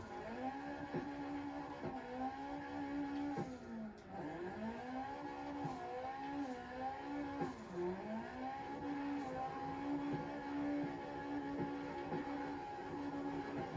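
Drifting Nissan S13 or BMW E36/E46 in CarX Drift Racing, engine revving steadily, pitch rising and dipping through gear changes and throttle lifts, a sustained close engine tone without speech.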